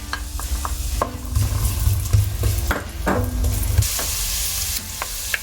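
Onion fries in sesame oil in a pot over medium-low heat, a continuous close sizzle broken by repeated scraping stirs and light metallic clinks of a utensil against the pot.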